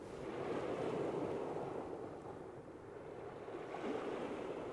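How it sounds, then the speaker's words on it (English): Wind-driven chop laps and washes at a coastal cod fishing spot as the tide comes in, a steady close surf-like rush with gentle swells in level and wind noise underneath. "now we've got a little chop on it from the wind as well"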